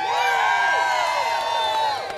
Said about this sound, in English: Don't cheer for me, cheer for yourselves.